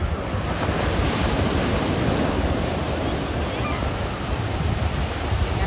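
Ocean surf roars steadily and close at Playa Dorada, Punta Pérula, Jalisco, Mexico, waves washing in continuously with heavy wind buffeting the microphone and no voices.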